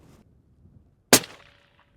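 A custom long-range 300 PRC rifle fires once at a 770-yard target: a single sharp, loud crack with a brief ringing decay, heard alone against a quiet outdoor background.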